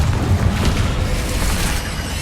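A Confringo explosive spell blast in Hogwarts Legacy, a loud sustained booming burst with crackling, rumbling noise throughout, no voices.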